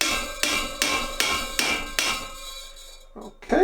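A hammer taps a dust shield onto the front wheel axle of a Triumph T140 motorcycle, giving six sharp metallic strikes at an even, steady rhythm, then a pause followed by a few faint handling knocks.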